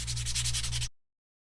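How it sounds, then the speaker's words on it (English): A brief, rhythmic scratchy rubbing of 150-grit fine sandpaper distressing a piece for a patina finish, close and fairly quiet, stopping abruptly into silence. "I am going to take a piece of fine grit sandpaper, 150 grit, and I'm going to just give these a little sand"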